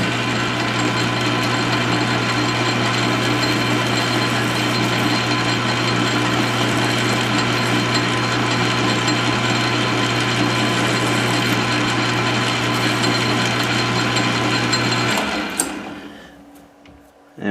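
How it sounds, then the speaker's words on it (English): A metal lathe runs steadily while machining a part for a ghost trap prop, giving a loud continuous whine and hum close up. It winds down and stops near the end. "I have a little more control over it when it's in the lathe here"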